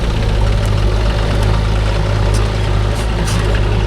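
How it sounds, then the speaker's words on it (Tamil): A tractor engine runs loud and close, a steady low diesel throb with constant rumble and no change in pace across the stretch. "இவன் டிராக்டரில் ஓட்டுறான்ல,"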